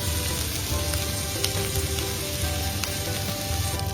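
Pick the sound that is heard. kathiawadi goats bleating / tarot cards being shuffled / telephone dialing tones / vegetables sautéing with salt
vegetables sautéing with salt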